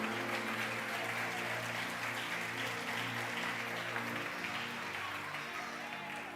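A church congregation applauds during an evening service, a dense, continuous wash of clapping from many hands that holds steady throughout, with faint voices and low musical tones underneath.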